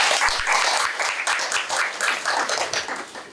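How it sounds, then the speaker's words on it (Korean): Audience members at a National Assembly Library colloquium on AI legislation give a round of applause, a dense burst of clapping that is loud at first and then gradually thins and fades. "박수 부탁드립니다"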